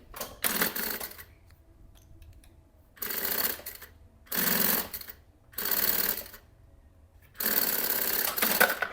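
Sewing machine running in four separate bursts of steady, fast stitching along a fabric strip for a tote bag panel, each burst a second or two long with quiet pauses between.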